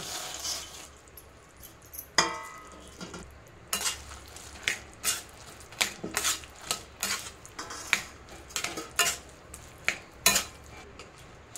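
Peanuts being stirred into sugar syrup in a pan for fasting peanut chikki, with a faint sizzle under a run of sharp scraping clinks from the spoon against the pan, close and irregular.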